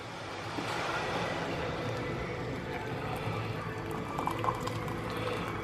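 Boiled kettle water being poured steadily into a pint glass, a continuous close gurgling pour with bubbling texture lasting several seconds, no voices.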